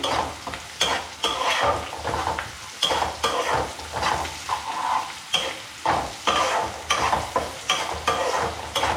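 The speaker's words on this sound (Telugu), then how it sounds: "ఆనియన్ కొంచెం ఇట్లా వేగిన తర్వాత ఇందులోకి పచ్చిమిర్చి, కొంచెం కలిపేసి" Onions and green chillies stir-fried in a pan for paneer biryani, a steady sizzle broken by repeated scraping strokes of a spoon, close and fairly loud with no talking.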